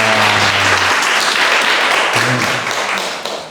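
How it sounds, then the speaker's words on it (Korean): An audience gives loud, close applause to a woman who beat blood cancer. Dense clapping fills the whole stretch, with a low hum underneath at the start, before it tapers slightly at the end. "일단 박수 한번"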